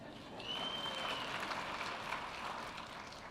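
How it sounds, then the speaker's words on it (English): An audience claps steadily at a North Carolina public event on future work and prosperity, a dense, continuous wash of applause that holds at an even level for several seconds with no talk over it. "Round of applause to yourselves."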